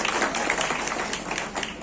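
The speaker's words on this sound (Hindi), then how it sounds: "तो एक बार जोरदार तालियों से एग्जीक्यूटिव मजिस्ट्रेट और हमारे चीफ गेस्ट जो हमने एड्रेस किया" An Independence Day celebration crowd claps for the chief guest, a brisk burst of many hands close by that fades slightly toward the end.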